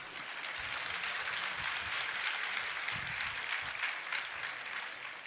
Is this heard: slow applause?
yes